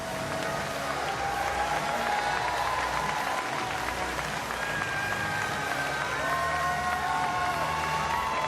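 Steady, dense applause from an arena crowd at the Liverpool 2022 Artistic Gymnastics World Championships, saluting the women's vault medalists, with scattered cheers and whoops running through the whole stretch.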